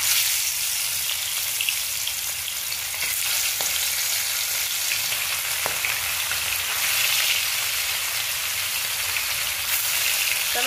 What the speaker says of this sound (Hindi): हो चुका है कढ़ाई में, तो चलिए हम कतला मछली को फ्राई करते हैं।